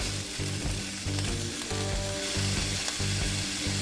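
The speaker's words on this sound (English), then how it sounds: "So while sauteing the ham, we can actually put the" Ham sautés in a pan with butter, a steady close crackling sizzle with some rhythmic pulsing from stirring, no voices.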